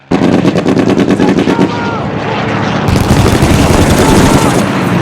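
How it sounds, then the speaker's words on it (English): Dense gunfire from a WWII combat scene in the war TV series Band of Brothers rattles in rapid bursts of automatic fire, loud and close, continuing for several seconds with a heavier rumbling burst later and some voices mixed in. "Are they shooting their own guys?"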